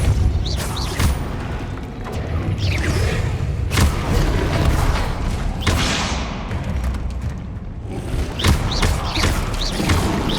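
Confringo and Depulso spell blasts go off in the video game Hogwarts Legacy, several loud booming thuds and crashes over dense, continuous game noise, with no clear talking.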